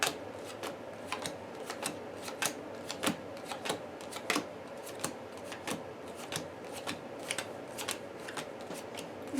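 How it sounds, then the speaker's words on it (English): A deck of game cards is shuffled during a tabletop card game, crisp riffling bursts and taps repeating in quick irregular clusters close up, fairly quiet, with no voices. "I'm shuffling my deck now."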